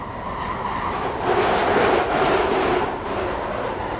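A London Underground Central Line train pulls into Bank station, steady loud rumbling and rail roar building slightly in the middle, carriage noise throughout with no talk.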